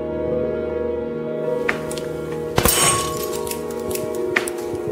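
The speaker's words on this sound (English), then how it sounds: "It popped open, glass flew." A pressurized glass vessel bursts open with a sharp crack, followed by the tinkling clinks of flying shards over a steady lab hum, close and fairly loud.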